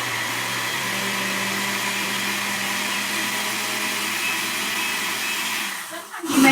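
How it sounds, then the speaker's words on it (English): A kitchen blender runs steadily, mixing batter with added baking powder and sugar in a loud, constant whirring drone that cuts off near the end. "And blend some more."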